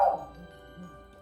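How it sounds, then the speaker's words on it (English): A single short yip from Foxy, a little puppy, at the very start, then a faint whimpering trail against quiet room tone. "That's my puppy, so ignore it."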